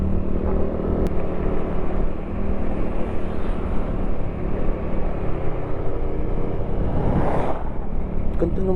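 Motor tricycle passing on a mountain road, its engine blending into the loud, steady wind roar and motorcycle rumble from a moving rider, with a brief louder swell near the end.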